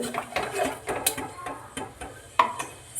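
Rice being stirred in a cooking pot, with a series of irregular metallic scrapes and clinks from a utensil against the pot, close and fairly quiet.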